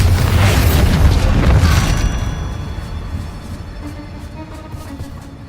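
A Bombarda blasting spell explosion in Hogwarts Legacy: a loud, deep boom that rolls out and fades over a few seconds into a lingering rumble.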